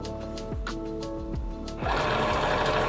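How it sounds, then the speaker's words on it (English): A cutting machine loads a cutting mat, giving a series of short motorized whirs and clicks followed by a louder, steady mechanical hum as the mat feeds in; no one speaks. "I want to make sure that it is centered in the guides and pushed against the pinch wheels, and then I simply hit the load mat button."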